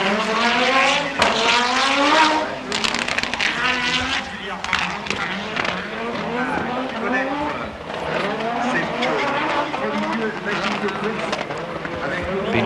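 Walter Röhrl driving his own four-wheel-drive rally car at the 1988 Race of Champions, engines revving and rising in pitch through repeated gear changes, with tyre squeal and a commentator talking over the racing noise.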